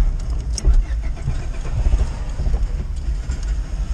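A stalled car engine cranks and sputters as someone tries to restart it, a low, uneven rumble with rattling, heard from inside the car.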